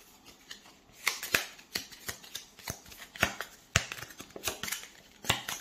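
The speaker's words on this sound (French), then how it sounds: "Donc déjà, on va mélanger les cartes" A deck of cards is shuffled during a Mice and Mystics board game, giving a series of crisp riffling bursts and snaps at close range, with no voices.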